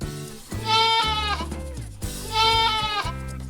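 A goat bleats twice in a row, each call a loud, wavering, drawn-out cry close by, with no one talking.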